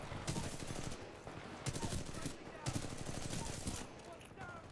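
Bursts of automatic gunfire from the video game Titanfall 2 during attrition multiplayer combat, rapid rattling volleys with short gaps between them, fairly quiet and steady throughout.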